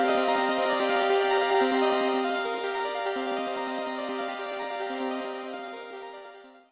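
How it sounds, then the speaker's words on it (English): An improvised piano keyboard riff used as a loop, played as dense repeated chords that stay full and steady before fading at the end, with no voices. "I usually like to improvise on an instrument first, and in this case it was a piano keyboard."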